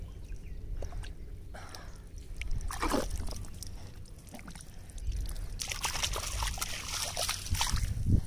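Water splashes and sloshes in irregular bursts as someone digs by hand in wet coastal mud while fishing for mudskippers, the splatters close and fairly loud over a steady wet background.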